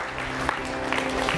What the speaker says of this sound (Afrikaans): Geef vir jouself lekker hande klap